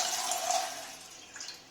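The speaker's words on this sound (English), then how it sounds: "now pour the water" Water splashes and pours steadily for a moment, then trails off into a softer trickle, close by with no voices.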